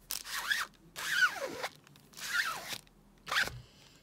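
A plastic card is scraped down across a silk screen stencil in four separate strokes, each a close, rasping swipe with short pauses between.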